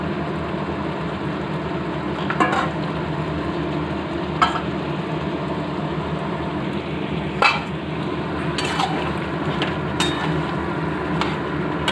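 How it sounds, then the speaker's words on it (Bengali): Chicken pieces frying in hot oil with masala in a pan, a steady loud sizzle running throughout, broken by occasional scraping clicks of a spatula stirring. "মাংসটা দিয়ে ভালো করে কষাবো।"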